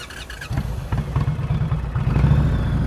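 Motorcycle engine during slow-speed riding practice, idling low and then throttled up in repeated uneven pulses of revving, close and moderately loud.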